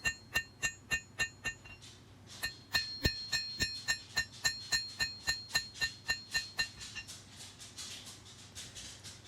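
Hand hammer blows on a hot steel blade on an anvil, drawing down the bevel of a tiny forged knife; a steady rhythm of sharp, ringing metallic strikes about twice a second, close and clear, with a brief pause early on.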